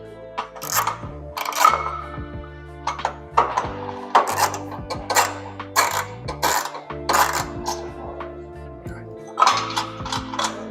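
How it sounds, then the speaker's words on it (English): A socket ratchet on an extension tightens nut-and-washer bolts on a Black Horse ladder rack, giving repeated bursts of close, sharp clicking in an uneven rhythm with brief pauses between strokes. "So I'm going to take my socket and put it on the ratchet"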